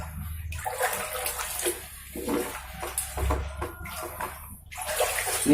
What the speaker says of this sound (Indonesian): Ini kita siram sampai ngocor ya,